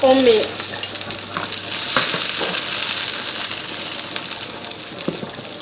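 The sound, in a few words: onion frying in a pan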